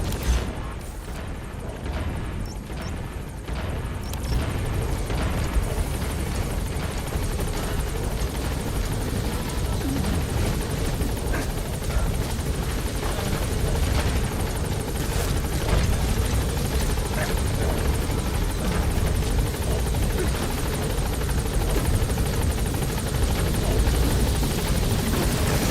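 A support helicopter in Metal Gear Solid V arrives with a loud, continuous rotor roar and deep rumble that holds steady throughout.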